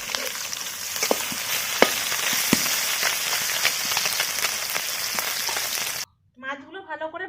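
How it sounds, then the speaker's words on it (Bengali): Small fish frying in hot oil in a village-style kitchen, a dense steady sizzle with scattered pops and crackles that cuts off abruptly near the end, followed by a brief burst of voice. "মাছগুলো উল্টে ভেজে নেব।"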